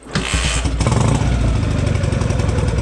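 A motorcycle engine cranks briefly, then catches and settles into a loud, steady, close idle with rapid even pulsing.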